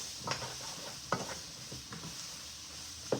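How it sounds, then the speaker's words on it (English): Whole petite mushrooms drop into a hot pan for chicken marsala. A steady sizzle runs underneath, broken by a few soft thuds and stirring knocks nearby. "Now I'm gonna take our mushrooms and we're gonna put them all in there."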